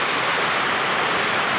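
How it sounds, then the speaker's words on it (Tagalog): Heavy rain pouring down outdoors, a loud, dense, steady hiss of drops drumming on surfaces, close and unbroken, with no talking. "Ay lakas ng ulan."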